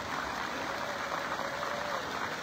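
A crowd at a church ceremony claps continuously, a dense, even wash of applause that holds steady throughout.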